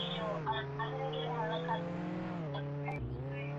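A small ATV engine in Roblox Jailbreak drones steadily and loudly at a constant pitch, dipping briefly near the end as the throttle shifts, with faint game noises overhead.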